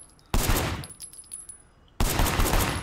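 Two sharp, loud bursts of gunfire from the gun tutorial in the Sleeping Dogs: Definitive Edition video game, each a sudden blast trailing off over about a second, with quiet ambience between them.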